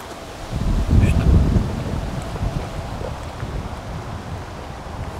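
Wind buffets the microphone with a strong low gust early on, then settles into a continuous rushing noise outdoors while fishing at a gravel pit.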